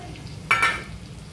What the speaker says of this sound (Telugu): ఇప్పుడు ఇందులోకి వేయించి పెట్టుకున్న బెండకాయల ముక్కల్ని వేసుకొని కలుపుకోవాలి